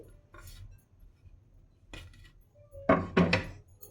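Bottle gourd cutlet mixture with carrot, coriander and green chillies being stirred in a bowl, a few soft scrapes and then two louder clanks of a spoon against the vessel near the end.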